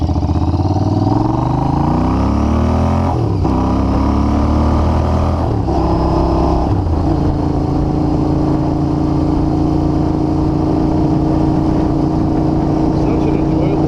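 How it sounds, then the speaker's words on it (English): A 2021 Royal Enfield Continental GT with Emgo slip-on exhaust pipes revs and shifts up through gears with a deep, throaty exhaust rumble, then settles into a steady loud drone while cruising. "the more I ride this thing with these pipes, the more I like it"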